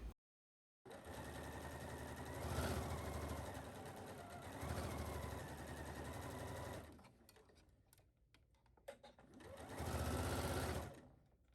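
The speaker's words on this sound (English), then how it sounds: "You're going to stitch your plackets down between the dot at the top of your bodice to the dot all the way towards the lower part." A sewing machine stitches down a dress bodice placket in three loud, close runs of rapid mechanical whirring, each separated by short pauses, with quiet handling sounds in between.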